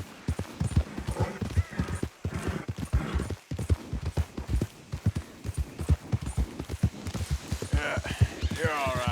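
Horse hooves clip-clop in a steady walking rhythm in Red Dead Redemption 2, close and moderately loud, joined by a brief snort near the end, with no talking.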